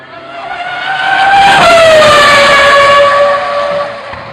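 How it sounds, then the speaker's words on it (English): Red Bull RB6 Formula 1 car at Killarney raceway doing a burnout, its engine revving to a loud, close, rising howl with tire skid noise layered over the roar. "That's a burnout, F1 style."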